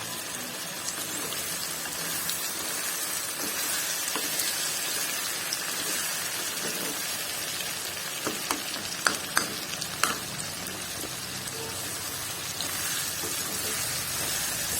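Ingredients for mango pickle sauté in a hot pan, giving a continuous close crackling sizzle with a few sharp stirring clicks near the end, and no talking.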